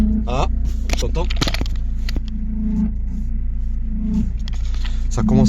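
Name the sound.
PT Cruiser CRD diesel engine running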